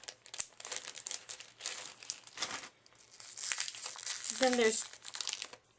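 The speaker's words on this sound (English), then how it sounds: "take the outer packaging off, and then the packaging that is closest to the clay, you just peel it away" Plastic packaging being peeled and crinkled away from a block of Makin's air-dry modeling clay, a run of close crackling rustles with brief tearing, with a person speaking briefly over it.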